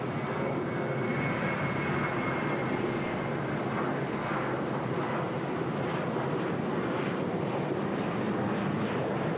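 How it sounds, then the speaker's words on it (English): A Boeing 737 takes off from Sydney Airport, its jet engines giving a continuous loud roar that stays fairly even throughout, with no talk. "the 737 getting away"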